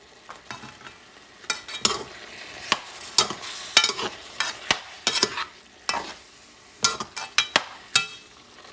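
Pork being stirred in a pot for Puerto Rican asopao, a string of scraping, clattering spoon strokes at an uneven rhythm over a low sizzle, close and fairly loud with no talking.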